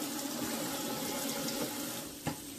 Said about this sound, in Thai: ล้างตัวไข่ให้สะอาดก่อนนะคะขัดถูไม่ดีนะคะ ล้างเปลือกไข่ให้หมด